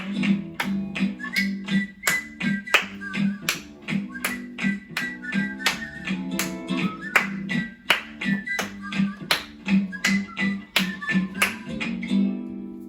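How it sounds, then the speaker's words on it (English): Children at a library story hour clap their hands in rhythm with a sung action song, sharp regular claps over a light tune with a singing voice. "Hands are for clapping, clapping to this song."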